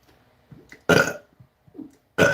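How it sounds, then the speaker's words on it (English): Two loud, close burps done on command indoors at home, a short one and then a longer second one after a quiet gap, with faint low vocal sounds in between. "I can burp on command"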